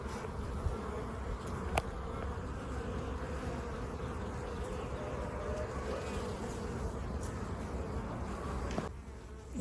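Honey bees fly around the entrances of two backyard beehives, one sitting in full sun, making a steady, dense buzzing drone close to the microphone that carries on with no talking.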